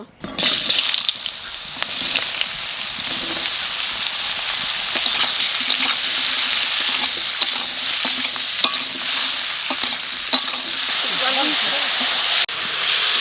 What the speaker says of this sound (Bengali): মাছের জলের জনিতে আলু ঝিঙ্গে একটু বাজিয়ে নেব